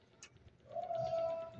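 A racing pigeon lets out a single soft, rising coo, close and fairly quiet, following a brief faint chirp, with no voices.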